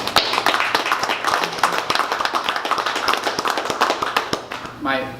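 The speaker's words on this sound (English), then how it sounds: "if anybody deserves applause and standing ovations here, it's Professor Roy" Audience clapping at an art exhibit closing reception, a dense, steady round of close applause with sharp individual claps throughout, tapering at the end as a voice begins.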